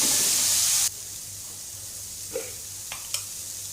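Onions fry in a pan for a karela dish, a loud dense sizzle for almost a second that then drops to a quiet background hiss, with a few soft clicks of a utensil afterward and no speech.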